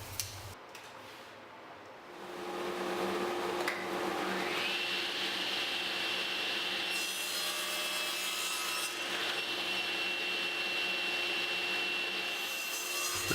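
A saw cuts wooden back slats for a bar height Adirondack chair, a steady loud whine with grinding friction running continuously after a brief start-up, alone with no talk.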